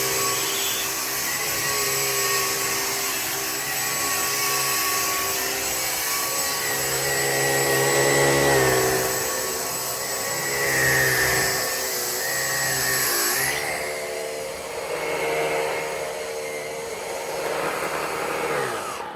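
A cordless vacuum cleaner with a brush roll runs on low battery, giving a steady whirring motor whine with a rubbing brush texture. Its pitch wavers, then drops off sharply near the end.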